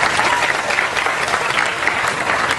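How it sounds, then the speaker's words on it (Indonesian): Audience applause fills a cultural dialogue gathering in a pendopo hall in Yogyakarta, a dense, steady wash of many hands clapping at once, loud and sustained with crowd noise mixed in. "Tepuk tangan untuk Indonesia"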